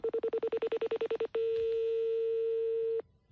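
A phone number is dialed with DTMF tones: a quick, even series of about a dozen short beeps, then a single steady tone that holds for nearly two seconds before cutting off, all clear and close.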